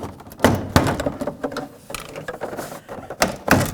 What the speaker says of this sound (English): Slide it in between and then gently pry away